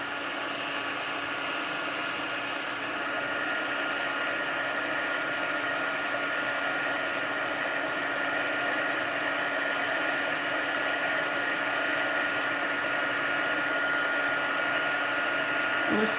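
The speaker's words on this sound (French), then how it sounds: "Et là, on chauffe. Pistolet chauffant. À la deuxième intensité." Heat gun running on its second intensity setting, warming gilding flakes: a steady, moderately loud airy blowing hum that holds unchanged throughout, with no talk.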